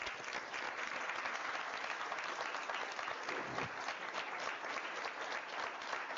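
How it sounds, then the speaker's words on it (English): An audience at a school board of education meeting applauds a group standing before it, a steady, dense round of clapping that runs unbroken and fairly soft from start to finish. "please give everyone standing here a round of applause"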